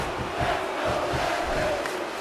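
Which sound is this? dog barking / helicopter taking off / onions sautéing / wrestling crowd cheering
wrestling crowd cheering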